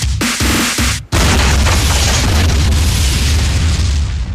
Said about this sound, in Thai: ผมอยากได้ระเบิดแบบฮอลลีวูดอะ ระเบิดเฮียเซ้งอะของจริง